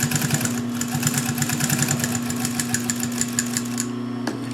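Pfaff 134 industrial sewing machine stitching through 4 to 8 layers of denim, a close, steady motor hum with a rapid rhythmic needle chatter that runs throughout, stopping just before the end.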